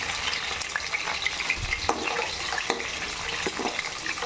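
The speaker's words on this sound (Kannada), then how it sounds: "ಇವಾಗ ಇದನ್ನು ಎಣ್ಣೆಯಾಗ ಫ್ರೈ ಹಿಂಗೆ ಮಾಡ್ಕೋಬೇಕತ್ತ" Steady frying in hot oil for a spicy Uttar Karnataka style egg curry: continuous close crackle and hiss with light stirring scrapes and a few sharper taps, no talk.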